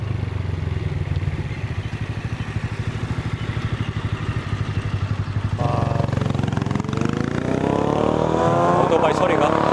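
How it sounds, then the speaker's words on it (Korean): A motorcycle engine rumbles from behind and grows louder, its pitch rising as it approaches and passes a bicycle in Taiwan, over steady road and wind noise. "뒤에 오토바이가 한 대 따라오는 것 같네요."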